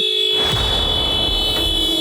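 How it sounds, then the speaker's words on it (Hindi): A car horn sounds in long, sustained tonal blasts with a brief break, loud and close, over low rumbling background noise. "इसे देखो जरा, क्यों हॉर्न बजा रहा है?"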